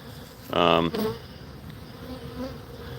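Bees buzzing at beehives freshly opened after several months, with a loud close drone swelling for about half a second before settling into a softer, steady background hum.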